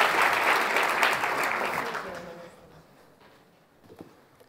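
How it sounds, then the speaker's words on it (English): A climate-and-health conference audience applauds for speaker Michael, with loud, dense clapping that fades away over a couple of seconds into near quiet, leaving a few faint stray sounds. "Give a big round of applause, everybody, to Michael."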